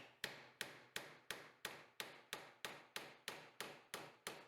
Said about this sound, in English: you can hammer down the nail into the trunk